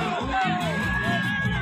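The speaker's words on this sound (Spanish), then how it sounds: "El público grita ahora, ahora, ahora." A stadium crowd at a football match chants together in a loud, sustained, echoing roar, with rising and falling voices blending into the wash.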